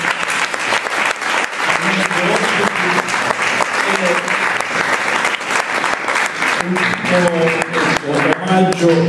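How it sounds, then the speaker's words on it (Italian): An audience at a poetry event applauds in a loud, dense, sustained burst of clapping that fills the room, with voices talking and calling out underneath. "Un applauso"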